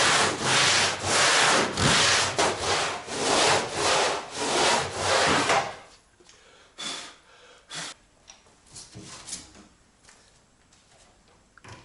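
Excess material is ground and sawn off a homemade duck-hunting sneak boat hull with loud rhythmic back-and-forth strokes for about six seconds, then quieter scattered scrapes and knocks.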